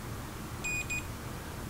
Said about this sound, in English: we're getting beep right there